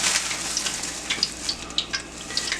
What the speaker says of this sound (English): It's time to fry this fish, so I'm going to crank up the heat just a little bit.